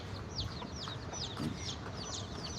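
Chickens kept by villagers on a farm where bullocks are fed sugarcane tops, soft repeated clucks and short chirpy calls at moderate distance over low background rumble.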